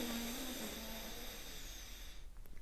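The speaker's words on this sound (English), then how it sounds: "Now I made the breath so that you could hear it." Breathing through one nostril at a time during alternate-nostril pranayama, a long soft airy hiss close to the microphone that fades out near the end, with no talking.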